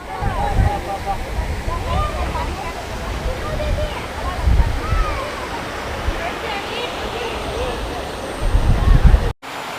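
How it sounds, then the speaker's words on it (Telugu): Water streaming at the Pedderu dam project in a continuous close roar, with people talking over it at times and a crowd murmuring in the background. "ఇక్కడ మీరు చూడొచ్చు వాటర్ ఏ విధంగా ఫ్లోట్ అవుతుంది అని"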